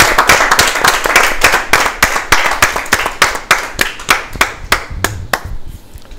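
An audience claps in unison to welcome a performer on stage: sharp, loud, rhythmic claps in a steady beat, starting as a busy wash and thinning to separate evenly spaced claps that fade near the end.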